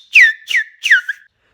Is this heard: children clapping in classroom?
no